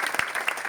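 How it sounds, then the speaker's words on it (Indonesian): An audience at a Balinese comedy performance applauds in a brief, dense burst of clapping. "Tepuk tangannya dong untuk kita semua."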